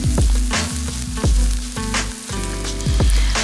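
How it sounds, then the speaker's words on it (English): Chopped onion, garlic and ginger fry hard in a hot pan for Sichuan mala cod, with a loud continuous sizzle broken by repeated clanks and scrapes of a utensil against the pan. "Add in the pre-cut onion, garlic, and ginger mix and begin to cook."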